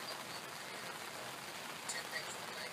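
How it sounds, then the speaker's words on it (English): Steady rain falls outdoors, a soft, even hiss of drops pattering on surfaces nearby. It stays faint and constant, with no other distinct sounds. "so it's raining and we're outside"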